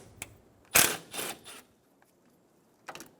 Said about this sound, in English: We're going to loosen this band clamp using a 10mm socket, just like that.